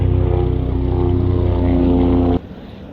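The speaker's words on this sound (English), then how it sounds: "There is always just so much background noise, like a helicopter going by." A loud, droning helicopter hums steadily overhead with a strong low throb, then cuts off abruptly near the end.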